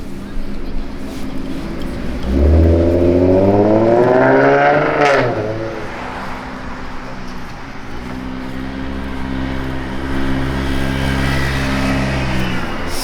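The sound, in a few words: cars passing on street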